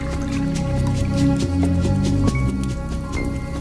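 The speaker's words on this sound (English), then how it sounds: "could discreetly pour a deadly dose of mandrake or nightshade into a goblet of wine" Liquid drips and trickles with a wet, splashy texture, like wine being poured into a goblet in an ancient Egyptian kitchen. The sound is set against a steady tonal music bed that continues throughout.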